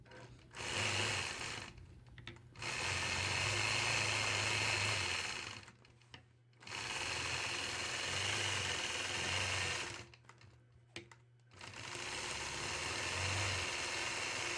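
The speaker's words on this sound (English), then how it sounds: "I'm going to begin by stitching in the ditch down the side and up all the way around the outside of the quilt block" A sewing machine stitches in the ditch around a quilt block, running in three long steady bursts of close, even motor hum and needle chatter, separated by short silent pauses.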